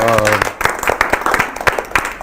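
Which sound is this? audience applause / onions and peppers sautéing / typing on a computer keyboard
audience applause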